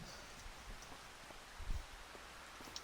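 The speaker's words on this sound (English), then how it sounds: "I don't even think the rain has let up yet." Rain falling steadily outdoors, a soft continuous hiss with faint patters and a low thump, heard alone without talk.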